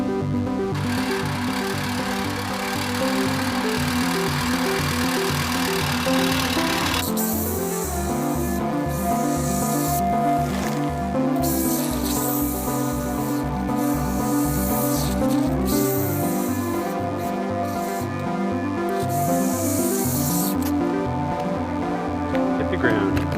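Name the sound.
lawn trimmer trimming front lawn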